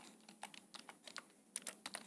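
Close, crisp key clicks from a computer keyboard as a file name is typed, falling in quick irregular bursts over about two seconds with no voice.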